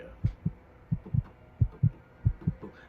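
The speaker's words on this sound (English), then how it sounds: "The heartbeat picked up too." A heartbeat sound effect in a scary story thuds in paired low beats, lub-dub, repeating at a steady moderate pace, soft and close against a faint background hum.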